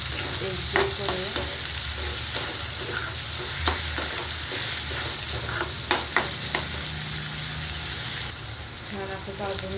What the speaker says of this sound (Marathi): छान असं भाजून तेल सुटलेलं आहे.